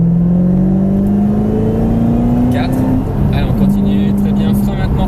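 Mustang Shelby GT500 on a racetrack accelerating under load, a loud steady engine drone with rising pitch that drops and resumes as the car keeps pulling, continuous throughout with a brief dip midway.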